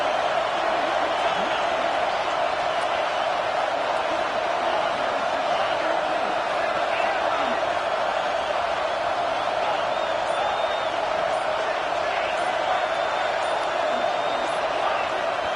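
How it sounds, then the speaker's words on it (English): A packed stadium crowd at Clemson's Death Valley roars steadily in a college football video game. The dense, continuous wall of noise rises at times, with voices under it. "And with this place rocking, the crowd forces a false start"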